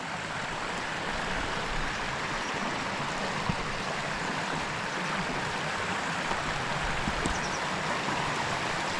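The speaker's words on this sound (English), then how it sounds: "in another place where the water's getting forced through the boulders" Stream water forced through boulders near a waterfall, a steady, dense rushing and gurgling that stays close and even throughout, with no voices.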